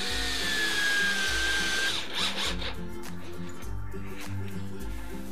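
Power driver spins number 5 cap head screws into a subwoofer enclosure while mounting the driver, a close, loud whirring in repeated bursts with a rising whine as each screw tightens.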